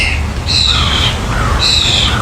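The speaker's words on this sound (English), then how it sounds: "I love those birds." Two loud, harsh bird squawks ring out close by in quick succession, standing alone over a steady background rumble.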